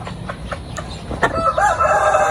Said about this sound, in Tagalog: update tayo sa ating mga manok sa ating native na mix sa heritage